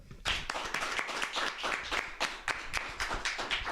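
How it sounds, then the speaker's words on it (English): A comedy club audience gives a rousing round of applause as a comedian is introduced, dense energetic clapping that starts abruptly and stays loud and full, with a few sharp individual claps standing out. "Will you give us a massive round of applause, rapturous round of applause"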